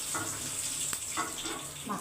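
Fish heads crisp in hot oil over a lowered gas flame, a faint, continuous sizzle with a few soft clinks and spatters from pieces being lifted out.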